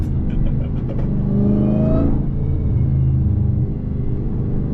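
A Dodge Hellcat's engine revs hard and loud as the car loses traction on worn tyres with no tread, a steady close roar rising in pitch then settling over nearly five seconds, with no talk.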